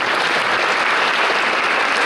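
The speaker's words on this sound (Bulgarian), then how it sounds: "Да чуем вашите аплодисменти." An audience at a wushu championship demonstration in Plovdiv claps steadily and evenly for about two seconds, a dense, continuous wash of applause with no voices.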